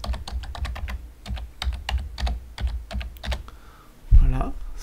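Rapid keystrokes on a computer keyboard while typing a search on a Windows PC, a close, crisp run of clicks ending in a heavier thump.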